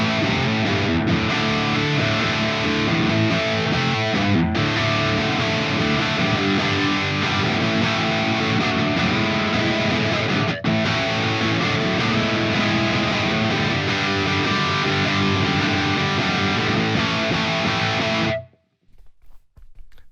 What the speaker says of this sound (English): just a really tight sounding distortion sound, beefy greens.